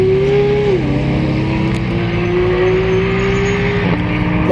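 A Chevrolet Monte Carlo SS engine rumbles loud and steady at a road rally, holding a deep drone that drops in pitch briefly, then settles at a constant idle-like hum, close by.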